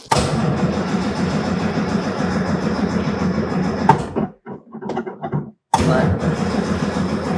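A 1939 vintage car, left unstarted for many days, cranks and runs loud and close with a rough mechanical engine rumble, cutting out briefly with scattered clatter before roaring again.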